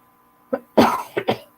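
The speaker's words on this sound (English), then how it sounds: "Still got this cough, but much better." A single close, raspy cough preceded by a short throat sound, followed by two smaller coughs, with silence around them.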